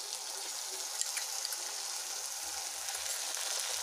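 A paste of ground cumin, ginger, chilli and pepper sizzles steadily in a hot pan, a continuous bright crackling hiss at low to moderate level with no voices.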